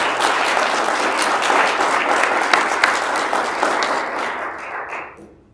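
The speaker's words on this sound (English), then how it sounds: "deserve a big round of applause for keeping us going" Audience applause at an annual church meeting, a dense sustained roar of many hands clapping that holds steady, then fades out quickly at the end.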